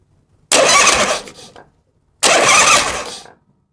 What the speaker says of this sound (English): Now the ignition is not on, but the starter button is.